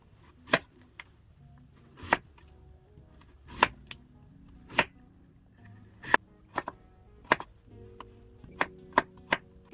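Knife chopping radish on a cutting board while making oyster rice, roughly a dozen sharp, separate cuts at an uneven pace, some louder strikes and a quick cluster near the end, close and clear with no talk.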